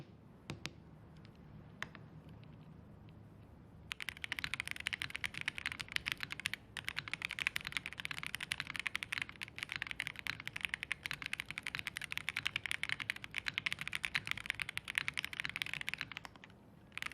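Steady, fast clacking of a mechanical keyboard with no foam inside, typed continuously up close after a few isolated clicks at the start.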